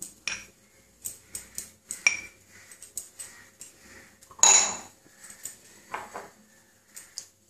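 Spices, chopped onion and rice flour get mixed into rohu fish roe in a bowl, heard as a run of sharp, close clinks and taps of a spoon against the dish, with one louder scrape midway and no talking.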